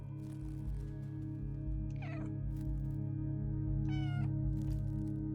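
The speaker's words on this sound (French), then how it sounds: "Et on miaule." Two drawn-out cat meows from the video game Stray, separated by a pause, over a constant low electrical hum and soft background noise.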